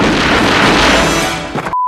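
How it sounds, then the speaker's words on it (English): Gunshot sound effects from the 1989 Batman film come as a loud, dense crashing burst that lasts under two seconds, then cut off abruptly to silence. "Listen to the sound effects and the gunshots in that movie."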